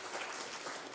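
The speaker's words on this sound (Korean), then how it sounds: "격려의 박수 한번 부탁합니다" A church congregation at an evening worship service applauds to encourage a missionary family, steady dense clapping that fills the room without a break.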